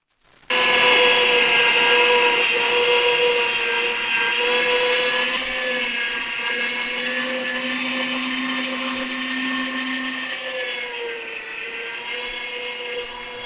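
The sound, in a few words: machine grinding meat with garlic, onion and bell pepper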